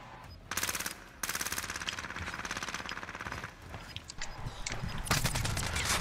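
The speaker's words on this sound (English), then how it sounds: "I'm taking shots." Rapid automatic gunfire in a video game, long rattling bursts with short gaps, loud and close, sometimes overlapping with more distant shots.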